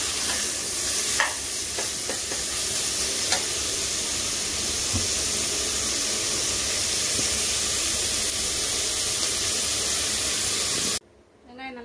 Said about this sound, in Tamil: வெங்காயம் ஒரு 2 நல்லா வதங்கட்டும்.